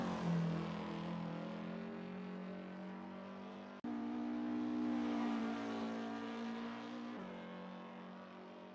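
Porsche 356 engine in a Goodwood hillclimb racing video game, droning steadily close-up with a strong low harmonic tone, briefly cutting out near the middle as the gear changes, then revving on again and easing slightly toward the end.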